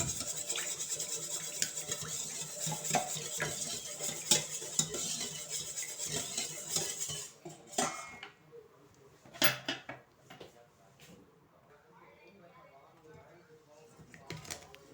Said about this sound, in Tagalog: beat together until the egg is beaten